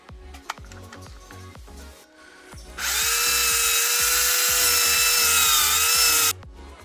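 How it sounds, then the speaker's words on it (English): A power tool cuts plastic tube for the axle carrier of an AMT 1968 Corvair model car, a steady loud whine lasting several seconds after softer rhythmic tapping and rubbing. "Now we're going to go through the same tube cutting procedure that we did earlier to make our axle"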